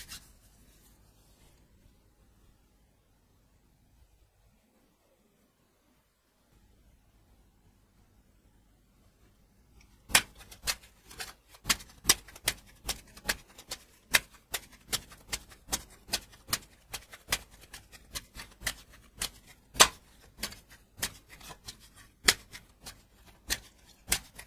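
Tarot cards being shuffled and cut by hand, first near silence, then a long run of crisp, quiet card snaps and riffles at an uneven, quick rhythm, heard alone without talk.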